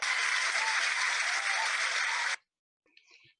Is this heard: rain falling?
no